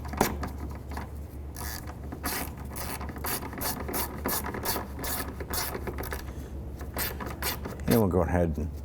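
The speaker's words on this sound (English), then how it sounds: "And we'll go ahead and snug these screws down." A ratchet tightens headlight screws on a 2005-2007 Jeep Liberty, with rapid repeated clicking bursts close by, followed by a brief rougher mechanical rub near the end.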